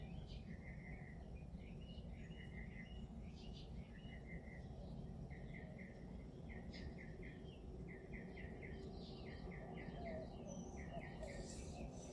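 Short bird chirps repeat in quick clusters over a steady outdoor hum, with a continuous insect-like trill and low rumble underneath.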